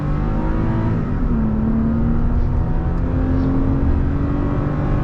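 A 3rd generation Toyota Tacoma pickup with a ValleyRunner tune accelerating hard, its engine roaring loud and continuous as the pitch climbs steadily through the revs, heard from inside the cab.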